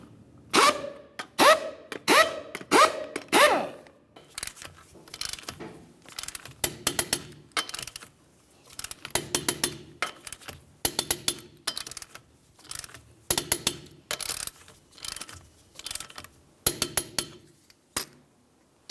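Torque wrench tightening lug nuts on a 2010-2013 Ford Transit Connect front wheel, sharp metallic clicks and clunks in irregular bursts, several quick clicks early then spaced taps continuing, close and alone.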